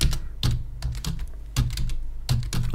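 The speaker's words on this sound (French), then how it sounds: "Si par exemple, vous tapez carte de normale," Someone typing a search query on a computer keyboard: several bursts of close, crisp key clicks separated by short pauses, with no voice over them.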